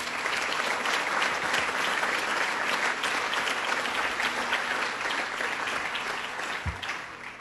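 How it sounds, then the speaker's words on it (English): An audience at an awards event applauds in a steady, dense wash of clapping for about seven seconds, loud and even, fading slightly toward the end. "But let's give them a round of applause."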